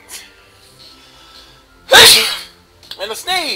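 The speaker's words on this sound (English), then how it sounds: "And a sneeze!" A single loud, sharp sneeze with a breathy intake before it, followed by a few brief voiced sounds and talk afterward.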